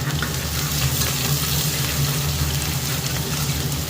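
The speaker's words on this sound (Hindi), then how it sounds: "उसके बाद यहाँ पे डाल रही हूँ प्याज।" Onion hits a pan of hot oil and garam masala, setting off a loud, continuous sizzle with a dense frying hiss and a low hum underneath, close by and without talk.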